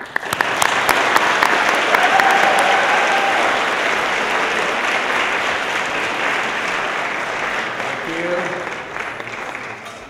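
An audience bursts into sustained applause welcoming Dr. Michael Kimmel at a lecture, a steady, loud wash of clapping lasting several seconds with faint voices underneath.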